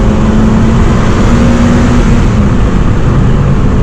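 A stock Honda Civic Type R EP3 pulls hard in third gear after a quick downshift, a loud continuous engine roar with steady tone heard from inside the car.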